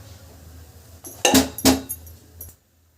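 Millet flour dough (kali) being stirred in a cooking pot at home, giving a few brief metallic scrapes and clinks close by, with two louder strokes in quick succession and no talking.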